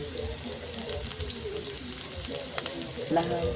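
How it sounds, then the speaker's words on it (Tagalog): Soft sizzling and frying of chicken sautéing in a pot, with clattering stirring sounds and watery hiss, fairly quiet and continuous. "Pag gumagisa ng mga manok"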